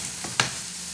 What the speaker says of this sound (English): Right, all our onions, all our carrots are frying off.